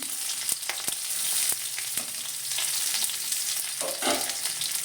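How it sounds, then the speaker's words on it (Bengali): Garlic frying lightly in a little mustard oil in a kadai, a close, even sizzle with occasional pops and a few knocks of a utensil. "রসুনটা হালকা ভেজে নেব যাতে এটা না পুড়ে যায়।"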